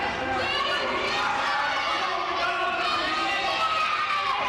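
A crowd at a professional wrestling match cheers and shouts as a wrestler strikes a pose, a dense, sustained roar of many voices filling the arena without a break.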